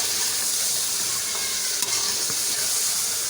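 Mutton and tomatoes fry in a karahi with a loud, steady sizzle, while a spoon scrapes and stirs now and then through the hiss.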